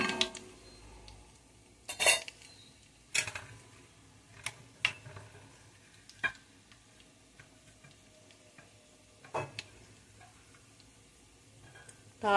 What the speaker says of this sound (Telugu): ఆవాలు చిటపటలాడాలి.